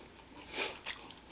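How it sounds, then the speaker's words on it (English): Someone chews a mouthful of birria ramen close to the mic, with one soft bite followed by a brief crunchy, wet chewing burst. The sound is quiet, and no voice is heard. "I can't stop the way I chew."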